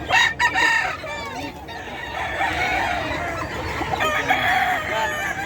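Gilmore gamefowl roosters at a poultry market crow loudly and repeatedly, with clucking and other fowl calls layered throughout, close and busy, with a voice briefly audible.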